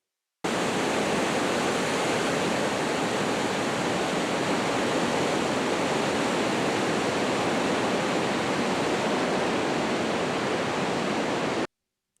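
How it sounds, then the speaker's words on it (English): Waterfalls on a river beside a walking path in eastern Idaho give a steady, dense rush of falling water, loud and unbroken throughout with no voices. "Here are some more waterfalls."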